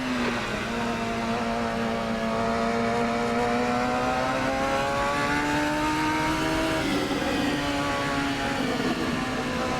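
Radical race cars driven in Assetto Corsa: a steady engine drone rising and falling in pitch through gear changes, with several cars audible together, loud and continuous with no talk.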